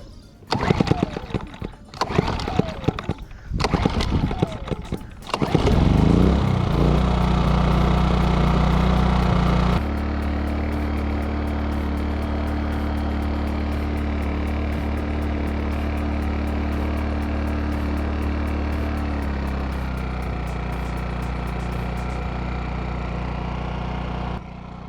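A Parkside 2000W gasoline generator starts after a few pull cord tugs, then runs at a loud, steady drone. Its pitch settles partway through and it keeps humming on, close up, with no talking.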